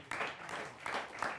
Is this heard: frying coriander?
no